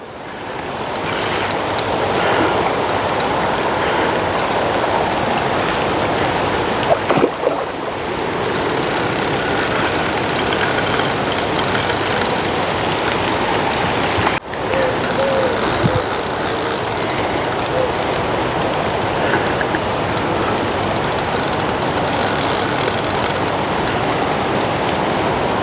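Heavy rain pours onto a park lake in stormy weather during a carp fishing session, a dense, steady hiss and roar that fills the whole stretch without letup and with no voices.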